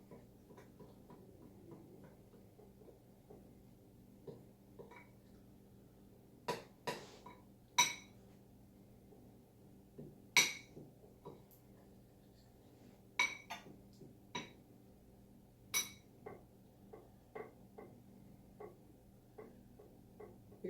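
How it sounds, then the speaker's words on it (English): A spoon stirs about three tablespoons of ghee, a clarified butter mixture, in a pot for a paleo peach cobbler. It gives quiet, scattered metallic clinks and taps at an irregular rhythm over a soft, hushed background. "I'm just going to stir this up really well."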